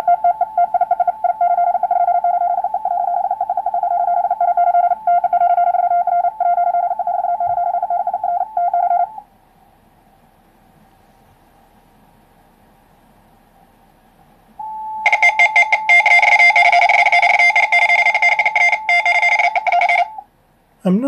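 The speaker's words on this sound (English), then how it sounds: "It must be Morse code." Rapid Morse code on the 40-meter amateur band, received on a QMX transceiver, keys a steady high tone in fast bursts for about nine seconds, fades to a faint carrier, then returns in a louder, noisier stretch before cutting off.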